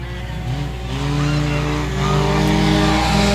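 Race cars scream around an oval track at Boyd Raceway, their engines a loud, steady, rising roar of several cars close together that swells as they pass, with a commentator's voice faintly underneath.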